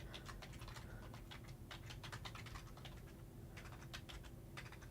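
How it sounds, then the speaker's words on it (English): Rapid keystrokes clatter on a computer keyboard in an uneven stream, close by, over a steady low hum. "I'm typing it out."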